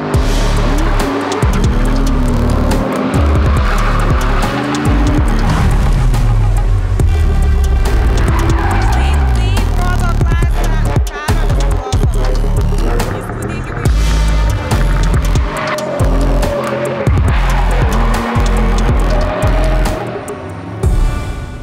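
A drift car's engine revs hard and roars continuously with tires squealing, loud and close, in a motorsport drifting setting; the noise surges and dips over about twenty seconds.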